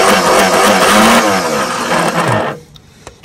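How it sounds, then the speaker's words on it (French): A Sunbeam Avenger estate's starter grinds loudly for about two and a half seconds as the ignition is switched on, then cuts off, leaving a few faint clicks. "je mets directement en contact"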